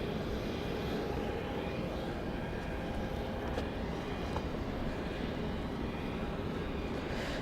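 A jet aircraft at Dallas Love Field airport, a steady broad engine roar droning continuously at moderate distance with no speech over it.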